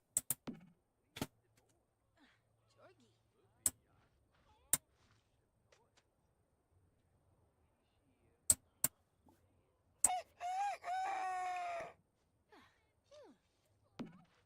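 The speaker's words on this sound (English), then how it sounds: "Are you trying to tell me it's cock-a-doodle-doo time already?" A single rooster crow in a Sims life-simulation game, a harmonic, wavering call lasting about two seconds, standing alone amid sparse sharp clicks and otherwise near silence.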